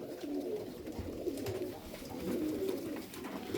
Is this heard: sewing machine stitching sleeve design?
no